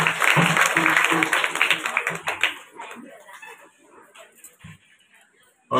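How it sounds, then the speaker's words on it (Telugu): Applause for puja sponsors at Vasavi temple, Devarakonda, starting as dense loud clapping that thins into scattered claps and fades, with background voices. "వారికి ఒకసారి గట్టిగా చప్పట్లతోటి"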